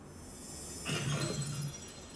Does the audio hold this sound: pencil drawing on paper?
no